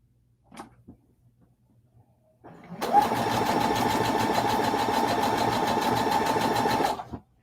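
Sewing machine piecing small quilt blocks with a quarter-inch seam, starting after a faint knock and then running in one loud, steady, even-paced hum for about four seconds before stopping abruptly.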